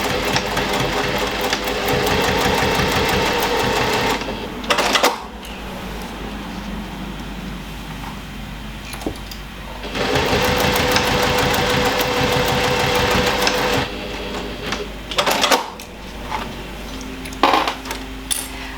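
A sewing machine stitches the sides and base of a MEW Designs Marie tote bag, running in long steady bursts of motor hum with short pauses, a few small clicks and knocks between runs.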